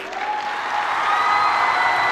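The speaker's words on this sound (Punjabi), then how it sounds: "ਤੁਸੀਂ ਤਾੜੀ ਦੀ ਆਵਾਜ਼ ਤਾਂ ਕੱਢ ਦਿਓ।" Schoolchildren at a senior secondary public school break into a burst of hand clapping, a dense, fairly loud patter of many small hands that swells and holds to the end, with a faint crowd murmur behind.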